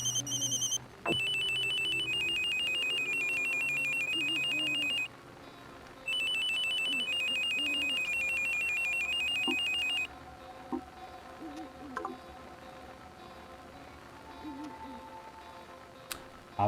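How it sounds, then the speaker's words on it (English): Phone ringtone in the Silent Hill Shattered Memories video game, a bright electronic ringing pattern that plays in two long bursts with a short gap, followed by quieter clicks and soft menu sounds. "Let's change our ringtone."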